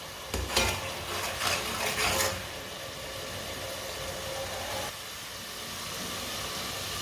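A spoon stirs and mixes aloo palak masala in a pan, giving a few scraping strokes early on, then settling into a soft, low simmering hiss with no voices.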